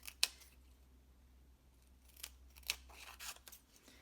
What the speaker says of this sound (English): I have to do some cutting. So let me get some cut.